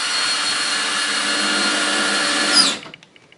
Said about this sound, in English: Let's put a few screws in here just to get it held back in place.